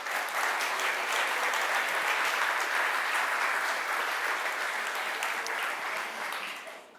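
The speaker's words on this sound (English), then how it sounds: "So please give a warm round of applause to Anna Rodriguez." A conference audience at SmashingConf applauds to welcome a speaker, a dense, sustained round of clapping from a full room that holds steady for several seconds, then tapers off at the end.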